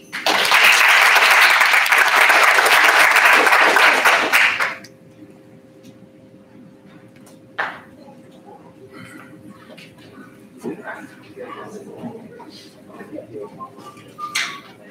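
A burst of loud, dense applause from an audience at a speaker series, lasting about four and a half seconds, then cutting off to a quiet room with scattered faint knocks and rustles.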